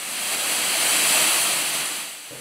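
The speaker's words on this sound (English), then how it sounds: "Through to the waterfall, which was a pretty impressive chamber. Pretty windy in there, there's a lot of water coming down." An underground waterfall in the Dan yr Ogof cave chamber gives a constant, loud, broad rushing roar of falling water with windy air, swelling slightly in the middle.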